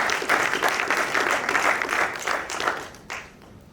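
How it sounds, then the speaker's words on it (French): Audience applause at a school ceremony at Collège Palmier d'Or, a dense steady clapping from a crowd that rings on for about three seconds, then fades out. "Et cela mérite d'être applaudi."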